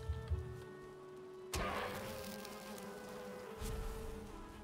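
Bees buzz in the video game Valheim, a steady insect drone that swells sharply midway and surges again near the end, with no talk over it.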